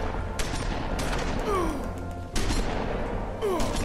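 Shotguns firing in The Wolf Among Us, a handful of loud, close blasts spaced apart over a dense background of other game noise.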